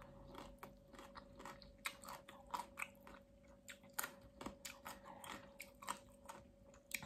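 Crisp, crunchy chewing of spicy Thai green mango salad with fermented fish sauce, close up, irregular bites and crunches repeating over a steady low hum, with no talking.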